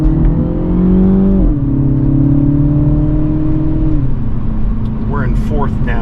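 A 2024 Mini Cooper S engine drones loudly while driving, its pitch dropping twice as the driver shifts down through the gears, with a few brief chirps near the end.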